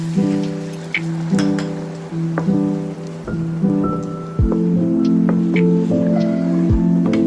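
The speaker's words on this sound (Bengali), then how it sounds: "এবার আমি এর মধ্যে একটু গরম জল দিয়ে দিচ্ছি" Hot water hits a pan of fried ridge gourd, a steady close hiss and bubbling with sizzling spatter and a few metallic clinks over it.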